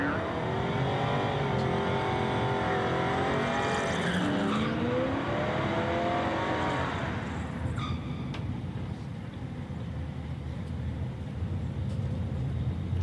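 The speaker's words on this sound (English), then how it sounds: "And Sherman Gills at the right-hand side of the racetrack, the late 70s Camaro." A late-1970s Camaro race car at a street drag race, with its hood off, roaring loudly and rising in pitch as it accelerates, then fading away and leaving a low background rumble.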